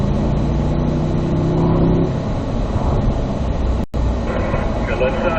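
A Corvette engine drones loudly in fourth gear on a track-driving course, a sustained roar with a brief dropout near the end, while a voice talks over it.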